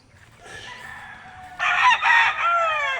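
Thomson White gamefowl rooster crowing close by, a rising call that swells loud and harmonic midway and holds to the end, with another bird faintly calling beforehand at a broodcock game farm.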